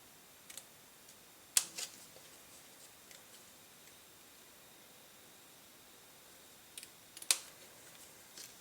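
Scissors snipping through paper while cutting out paper berries for an autumn wreath craft, two brief crisp cuts at separate moments over a quiet background.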